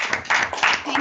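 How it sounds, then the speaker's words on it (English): Audience applause at a talk or presentation: a short burst of dense, noisy clapping mixed with a voice speaking over it. "maybe we could give one more round of applause"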